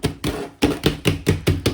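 Hands slap the sides of a plastic self-watering pot while a ZZ plant is being repotted, loosening the soil: about six dull, even thumps in a quick steady rhythm, close and fairly loud, with no talking.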